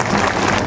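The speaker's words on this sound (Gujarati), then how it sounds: "તાળીઓથી વધાવો." Audience applause at a 25th-anniversary silver jubilee temple festival in Vadavi, a dense, steady clapping texture filling the whole moment at close range, with no voices over it.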